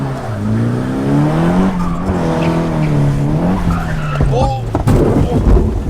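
Loud, drawn-out tire squeal as a crashed Nissan S15 with 12-inch-wide wheels does a donut in a sustained slide, wavering pitch over heavy engine roar, then a sudden clunk and rougher noise near the end.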